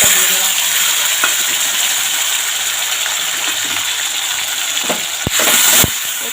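Tomato, green chili and onion fry in oil for hilsa fish, giving a loud, steady sizzle throughout. Louder stirring or spitting bursts come near the end.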